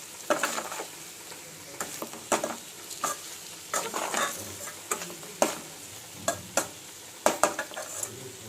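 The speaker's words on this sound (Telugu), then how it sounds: "ఉప్పు వేసి ఒకసారి తిప్పుకోండి" Egg fry sizzling in a pan with salt just added, stirred with a spoon that gives sharp, irregular scrapes and clacks over a steady low frying hiss, close and clear with no voices.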